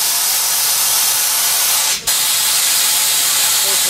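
A pneumatic bead breaker on a tire changer lets out a loud, continuous hiss of compressed air, close and steady, broken only by a brief gap near the middle before resuming.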